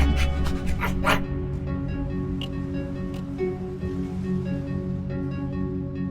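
A dog in the video game Minecraft Story Mode gives a quick run of yips and barks at the start, then softer whimpering noises over faint game music.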